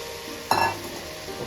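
Rice being stirred once in a frying pan while making coconut milk biryani, one brief scraping rustle with a soft sizzle, close and alone.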